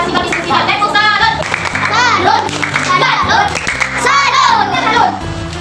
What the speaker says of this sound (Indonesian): kita beri tepuk salut ke teman-temannya yang sudah mempresentasikan diskusinya